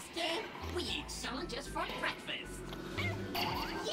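A cartoon cat meows in the video game Gori Cuddly Carnage, with several short mewing calls scattered across busy game noise while a person talks over them.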